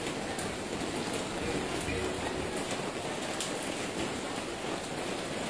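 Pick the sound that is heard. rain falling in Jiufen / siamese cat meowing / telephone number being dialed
rain falling in Jiufen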